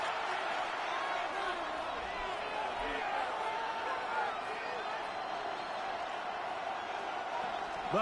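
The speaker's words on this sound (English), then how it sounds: "The crowd making their presence felt." Stadium crowd noise in a Madden football video game forms a steady, busy roar of cheering, with a commentator-like voice faintly mixed in underneath.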